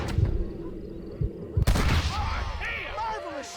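Gunfire in the video game Red Dead Redemption: a couple of sharp, booming shots ring out amid game ambience, followed by a character's voice.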